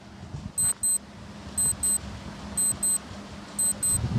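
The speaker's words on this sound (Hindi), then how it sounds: "टाइमर आपकी स्क्रीन पर है।" A quiz countdown timer sounds in a quiet room: pairs of short, high electronic beeps repeat about once a second in a steady rhythm, clear and fairly near over a faint background hum.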